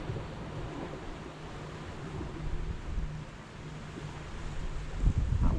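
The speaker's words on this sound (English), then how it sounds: "That wind is gusty there." Gusty coastal wind buffets the microphone as a low, steady rumble that swells into stronger gusts toward the end, with faint surf beneath and no speech.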